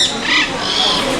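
A large bird, likely a parrot, screams loudly and harshly in close range, a continuous raspy squawk lasting over a second amid an aviary full of birds.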